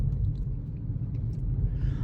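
Deep rolling thunder rumbles low and continuous, a heavy sustained roar with no break and no voices.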